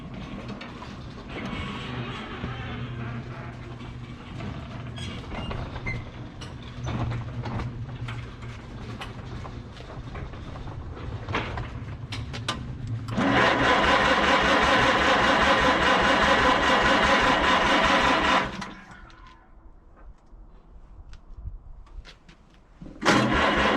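A Farmall C tractor engine cranks with a rattling, mechanical clatter, then roars loudly for several seconds before settling to a quieter idle and revving up again at the end.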